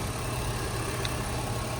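A warm BMW S52 engine bored out to 3.3 litres in an Alpina car ticks over at a steady idle, a constant low rumble close by with no voices.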